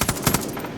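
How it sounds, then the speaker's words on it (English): An M60 light machine gun fires in the video game Far Cry 5, a short, loud, rapid burst of several gunshots that quickly fades, heard alone. "buy this weapon, the M60 light machine gun"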